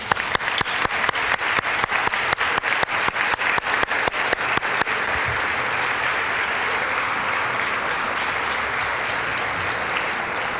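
Loud applause from an audience at a youth congress, opening with a burst of sharp, rhythmic clapping for about five seconds, then settling into a steady, dense wash of applause that continues to the end.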